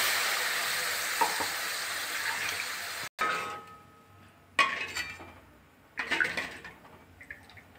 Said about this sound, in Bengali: এবারে আমার মশলাটা ভাজা হয়ে গেছে